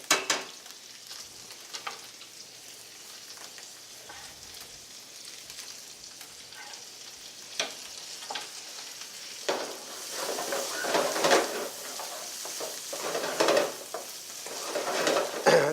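Vegetables and garlic fry in a hot pan, giving a continuous close sizzle with scattered scrapes of stirring that grow louder and busier toward the end.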